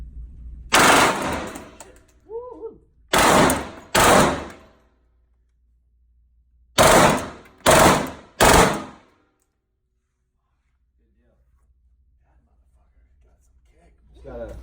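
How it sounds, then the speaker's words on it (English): A golden AK-47 with a compensated muzzle, fired on full automatic at a firearms training range, in several short, loud, close bursts separated by silence, with faint whispered talk between them. "This is a golden AK-47."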